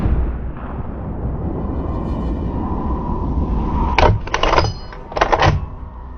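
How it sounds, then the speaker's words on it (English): Gunshots crack out in woods during a wild boar hunt: a cluster of sharp reports in quick succession, loud and reverberant, over a dense rushing background. "Moments later, more shots rang out from the team."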